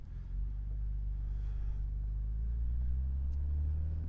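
BMW M Roadster cruising with the top down, a steady low engine rumble and road drone holding constant throughout, close and even with no sharp revs.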